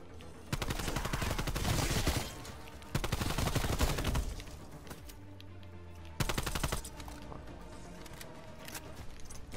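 Rapid automatic gunfire rips through a zombie map video game in three loud, sustained bursts, with short pauses between them. No voices are heard.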